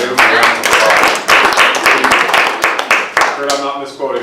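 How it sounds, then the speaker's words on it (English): An audience at a Rotary club meeting claps together in a dense, loud round of applause lasting several seconds, starting strong and then easing off toward the end. "a round of applause"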